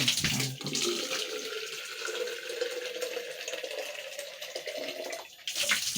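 Water runs steadily into a toilet bowl as it is rinsed during bathroom cleaning, a soft continuous splashing stream that lasts throughout, with a brief louder gush near the end and no talking.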